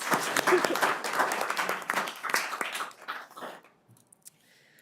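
Short round of applause at a city council meeting, scattered clapping from a small room that tapers off into quiet after a few seconds.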